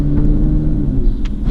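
A Kia Stinger Federation accelerating hard from a standstill, its engine a loud, close, steady low drone and rumble through the short burst.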